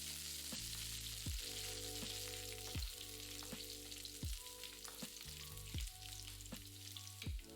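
Dried red chilies, curry leaves, chopped green chilies and garlic frying in hot oil in a Kerala kitchen, a continuous close sizzle with a series of periodic low scraping knocks of a spoon stirring the pan.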